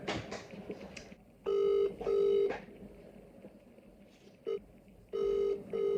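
A telephone rings in repeated electronic bursts, two long trills, a short blip, then two more, fairly loud over a quiet background.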